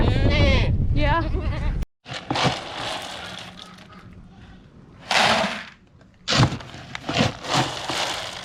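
Goats bleat loudly and repeatedly while waiting for feed on a farm, the cries sharp and close, mixed with rustling and movement, and a person's voice briefly at the start.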